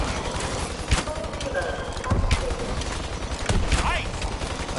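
Gunfire in a zombies video game rattles out in rapid, continuous bursts with sharp repeated shots across the whole stretch, fairly loud and close.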